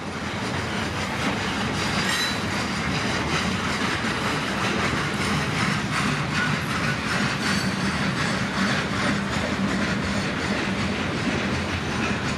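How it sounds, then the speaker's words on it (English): A freight train with mixed cars rolls past at a steady pace near the Current River, a dense continuous rumble with rhythmic clickety-clack of wheels on rail joints and faint metallic squeal, close and loud throughout. "There's the mixed cars in the middle of the train,"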